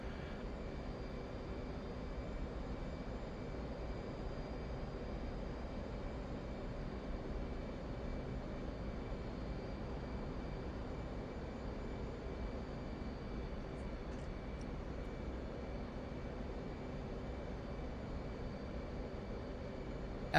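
An F-18 jet engine in the DCS flight simulator game gives a steady, unbroken mid-level drone that holds evenly without change in pitch or loudness.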